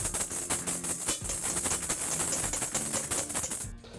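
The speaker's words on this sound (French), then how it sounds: "on va monter les blancs en neige" Egg whites are hand-whisked to stiff peaks in a bowl, a fast, even, continuous rattle of whisk strokes close by that stops abruptly at the end.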